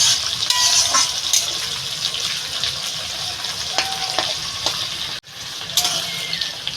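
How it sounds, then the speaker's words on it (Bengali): Onion frying in hot oil in a pan for a Bengali chicken dish, giving a steady bright sizzle and hiss throughout, with faint stirring clinks and one brief dropout. "এই পেঁয়াজটা একটু ভেজে নেবো"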